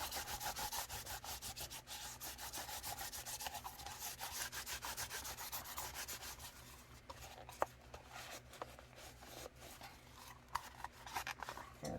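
Soft, rapid rubbing strokes brush dust off sanded 3D-printed pistol parts, a quiet scratchy back-and-forth texture with a few small clicks near the end, close and without speech.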